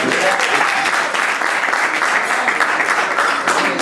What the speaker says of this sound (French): Applaudissez sur l'épouse.